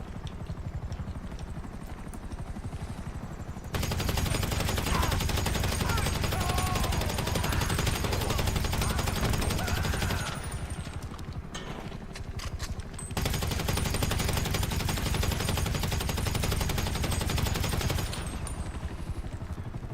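Rapid, continuous bursts of automatic gunfire in Grand Theft Auto Online with a droning helicopter rotor underneath, loud stretches broken by brief quieter gaps.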